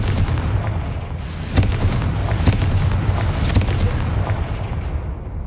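The Confringo fire-blast spell detonates in the Hogwarts Legacy video game, a booming burst followed by a sustained rumbling roar of fire and debris with sharper cracks scattered through.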